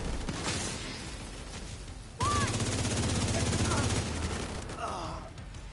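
Gunfire from bleed bullets in The Division 2, rapid automatic bursts rattling in dense volleys, a brief lull then a louder sustained stretch of shooting, with game effects layered over it.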